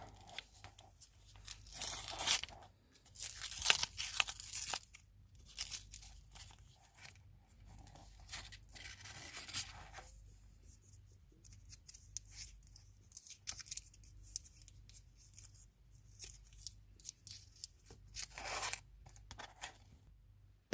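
A Japanese chewing gum package is torn and crinkled open, with bursts of rustling wrapper plastic and paper tearing between quiet pauses, close to the microphone and with no voices.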